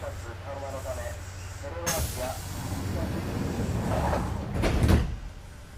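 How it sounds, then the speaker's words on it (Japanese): Doors closing on a Kintetsu Nagoya Line train, a sharp hiss of air followed by a sliding thud and the low rumble of the carriage, with a voice audible in the background. "扉が閉まります。"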